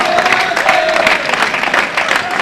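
An arena crowd at a men's world championship singles medal round, cheering and applauding in a loud, dense burst of clapping and voices that fills the whole moment.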